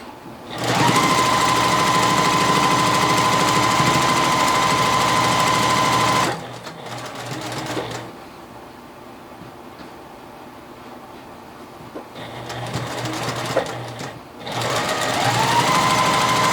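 A sewing machine back stitches a quilt block, whirring loudly and steadily for several seconds, pausing through quieter handling, then starting up again in a second close, sustained run.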